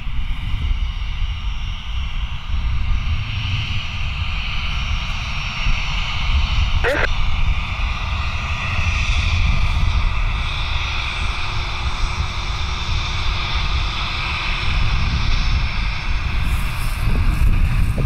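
A steady roar of a small business jet fills the clip continuously at Cleveland Hopkins airport, loud and broadband, with a brief faint click partway through.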